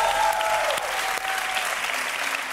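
Studio audience applauding steadily on a Bulgarian TV show, a dense, loud wash of clapping that fills the whole stretch with no talk over it.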